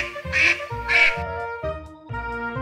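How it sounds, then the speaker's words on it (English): A duck quacking on a farm, two loud nasal quacks close together followed by a few shorter, softer calls, heard alone and close. "Pato, duck."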